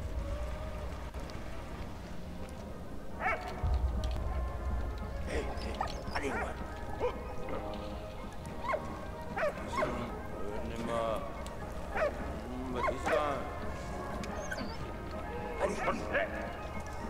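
A dog barks repeatedly in the video game Valiant Hearts: The Great War, scattered among other game sounds and a voice talking over the action.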